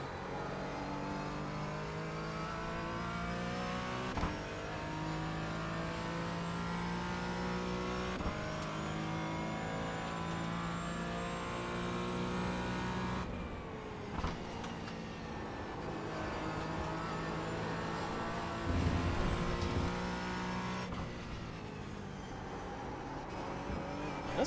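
Porsche Cayman GT4 lapping the Brands Hatch race circuit, its engine droning steadily and loud throughout, with rising and falling revs through gear changes and corners.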